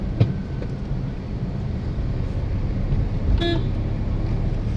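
A learner car moving along in third gear during a driving lesson, a steady low engine and road rumble running throughout, with a brief higher tonal whine near the middle.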